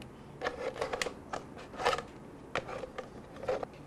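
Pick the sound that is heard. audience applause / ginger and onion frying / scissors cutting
scissors cutting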